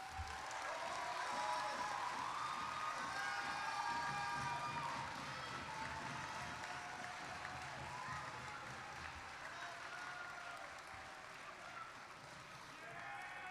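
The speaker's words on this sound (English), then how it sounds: "with a round of applause for them." A large crowd at a university commencement ceremony applauds continuously, dense clapping mixed with some cheering, holding steady and fading slightly toward the end.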